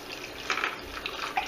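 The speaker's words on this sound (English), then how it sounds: "so I'm going to put some more water in there" Water added to MRE sauce powder mix in a container, a faint, soft trickle and splash with a few brief bright bursts over about a second and a half.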